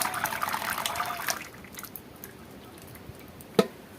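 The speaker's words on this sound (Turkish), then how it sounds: "Hepsini döktük kevgirin üzerine." Tomatoes poured into a colander while canning tomato sauce: a wet splashing pour over the first second and a half, then quiet drips and trickles, with one sharp knock near the end.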